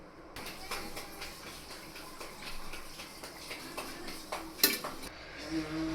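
Spice masala mixed with oil in a bowl, heard as soft steady scraping and stirring with a few light clinks of a spoon against the dish, quiet and close, with no talking.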